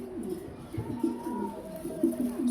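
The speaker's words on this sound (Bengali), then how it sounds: "চমৎকার একটা কালারিং কবুতর গ্রিজেল নর" A grizzle male pigeon with silver colouring gives repeated throaty coos in a rolling, pulsing rhythm, close and clear over light background hiss.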